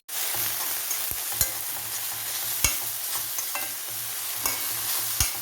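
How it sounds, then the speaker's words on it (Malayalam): Taro leaf thoran with grated coconut, onion, chilli and salt being stirred in a pan: a steady soft sizzle broken by several sharp spatula knocks against the pan, close and without talk. "ഇനി ഇതൊന്ന് ഇളക്കി കൊടുക്കാം"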